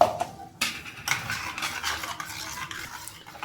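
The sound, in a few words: mixing banana shake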